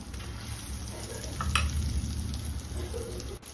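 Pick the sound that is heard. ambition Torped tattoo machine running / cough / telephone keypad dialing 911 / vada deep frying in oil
vada deep frying in oil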